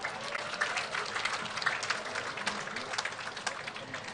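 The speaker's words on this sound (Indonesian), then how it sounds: "Kita sambut dengan tepuk tangan yang meriah" Audience applause for the best costume winners at an Indonesian Independence Day (79th anniversary) ceremony, steady and dense clapping from a crowd lasting throughout, fairly even in loudness with no break.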